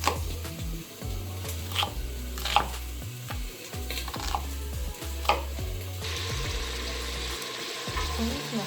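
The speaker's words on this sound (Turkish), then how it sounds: "soğanlarımı doğrayayım" Sharp knife chops onions on a board, irregular and close, mixed with steady sizzling and stirring of meat frying in a pan; a low hum runs underneath.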